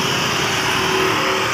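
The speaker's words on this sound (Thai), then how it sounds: "นี่ก็จะมีรถบัสนะครับรถบัสประจำทางนะครับสุราษฎร์ธานีพุนพินนะครับ วิ่งสีส้มนะครับ" An orange Surat Thani–Phunphin route bus rumbles past at close range in a steady, unbroken engine drone with street noise around it.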